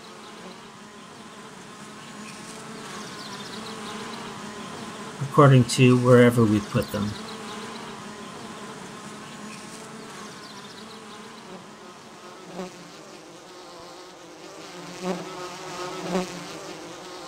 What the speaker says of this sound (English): we can hear these bees rotating around us